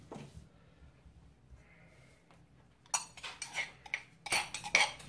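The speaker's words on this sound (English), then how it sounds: "I've got about 5 cloves of garlic in here. And what I'll do, I'll crush these up as well." Garlic cloves being crushed in a home kitchen while cooking spare ribs, with bursts of sharp metallic clatter and scraping from a utensil against a pot or board, close and fairly loud after a quiet start.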